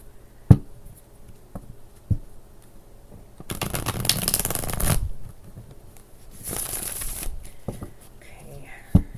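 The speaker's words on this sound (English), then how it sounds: "one more shuffle should do it" A deck of tarot cards is shuffled in two quick, crisp riffling bursts, with a few soft taps and knocks of the cards in between.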